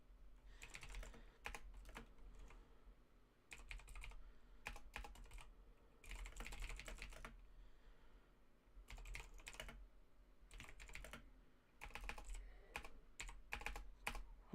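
Fingers type on a computer keyboard in rapid bursts of clicking keystrokes, separated by short pauses, fairly faint and close with no talking.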